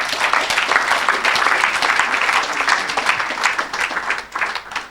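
A church congregation applauds the Lord with sustained, dense clapping from many hands, loud and close, rolling on for several seconds with a little crowd noise beneath and easing slightly at the end.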